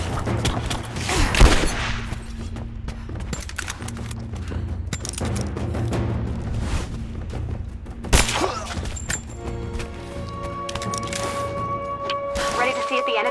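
Covering gunfire during a firefight in Rise of the Tomb Raider: dense, rapid cracks of shots run almost continuously, with a heavier blast partway through and voices talking over the battle.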